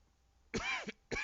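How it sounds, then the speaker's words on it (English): Two sharp, close coughs, the first longer and rasping, the second starting just after a short pause. "I wish I could stop coughing"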